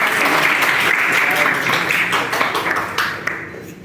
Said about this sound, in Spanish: Fuerte palmas, por favor